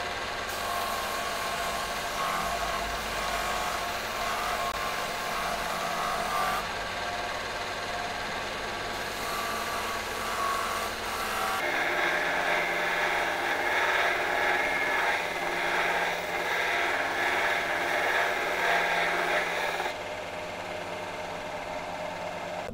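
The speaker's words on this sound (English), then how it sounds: "that should be easy to do on the little belt grinder" A small belt grinder shapes the rounded oval wooden ball end of a walking stick, running as a steady mechanical drone with a harsher abrasive hiss rising while the wood presses against the belt, continuous throughout.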